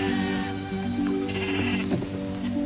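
Sheep bleat repeatedly in a close, dense overlapping chorus, several animals calling over one another through the whole stretch with no talk.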